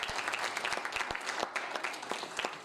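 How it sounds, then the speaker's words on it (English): Audience applauding at the closing ceremony of the ICIT 2024 conference, a steady dense clapping that fills the whole moment, fairly even in level. "a big round of applause for my team."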